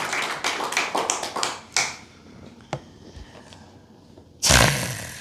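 Church congregation clapping during a sermon, a quick run of loud hand claps that thins into a few scattered claps and quiet, then ends in a sudden loud burst.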